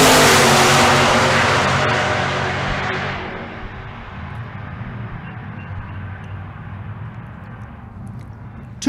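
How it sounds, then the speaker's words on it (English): A drag race launch between a 2007 Silverado and a 2002 Camaro: a loud engine roar fades steadily as the vehicles pull away down the strip, leaving a lower distant rumble. "is Benny Geisbrand, the 2007 model Silverado. Left lane is Jesse Haslett. Haslett, the 2002 model Camaro"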